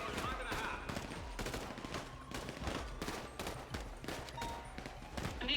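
Rapid bursts of automatic gunfire in a GTA NoPixel roleplay shootout, a dense fusillade of repeated shots at a fairly low level, running continuously with a voice talking underneath.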